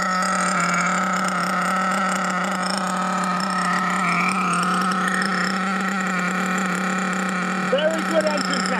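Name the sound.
HPI Savage X4.6 nitro RC truck engine running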